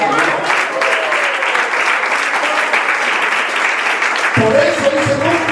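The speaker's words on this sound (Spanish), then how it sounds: "Vamos a dar un aplauso al Señor." A church congregation applauds steadily during a sermon, dense clapping holding at an even level throughout, with a shift in tone near the end as the applause carries on.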